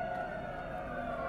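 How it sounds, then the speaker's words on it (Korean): Fire engine sirens wail steadily outside a hospital fire, with dozens of fire trucks filling the road, heard as a continuous, somewhat distant tone. "소방차 50세대가 대구 신라병원 앞 도로를 가득 메웠습니다"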